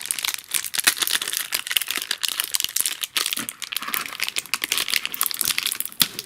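Someone tears open and crinkles a foil wrapper on a FUNSKOOL Pokemon card booster pack in a dense run of crackling and ripping up close, with no speech.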